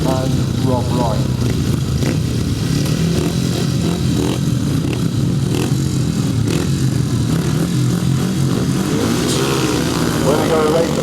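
Grasstrack racing motorcycles revving loudly at the start of a best-pairs race, engines roaring together and continuously as the bikes pull away, with an announcer talking over the din.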